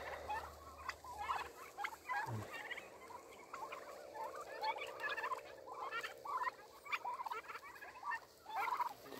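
Domestic turkeys out on an evening walk gobble and chatter repeatedly in quick, overlapping bursts, fairly close and clear against a quiet outdoor background.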